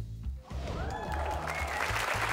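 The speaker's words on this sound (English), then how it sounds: "Oh, the crowd, they're liking that, Orlando." Game show studio audience applauding a contestant's answer, a steady broadband patter of clapping from a nearby crowd that starts abruptly and holds through the clip.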